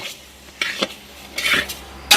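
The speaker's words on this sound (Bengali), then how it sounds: "গরম কড়াইয়ে দিয়ে দেব সোনামুখ ডাল ডালগুলোকে ভালো করে ভাজা ভাজা করে নেব" Moong dal stirred and fried in a hot wok, with a steady sizzle under repeated scraping strokes of a spatula against the metal, close and fairly loud, no talk.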